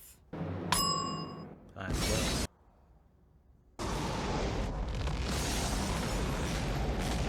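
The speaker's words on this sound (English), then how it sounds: "There's a lot of explosion." Explosions in the 1993 animated Batman film Mask of the Phantasm roar as loud broadband blasts, one burst, a short gap, then a long sustained rumbling wall of fire.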